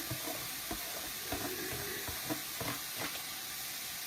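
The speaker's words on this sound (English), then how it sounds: "I'm going to add my onion to that and get it going" Onion frying in a pan as the base for black beans gives a quiet steady sizzle, with occasional soft stirring taps and scrapes close by.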